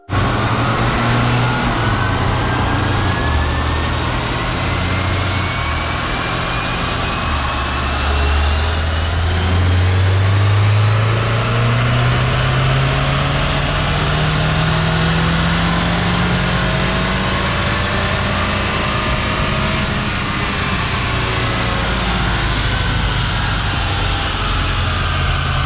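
A 2021 Acura TLX A-Spec with a K-Tuner tune, RV6 catted downpipe and K&N intake makes a long dyno pull. Its loud engine drone climbs steadily in pitch throughout, with no talking.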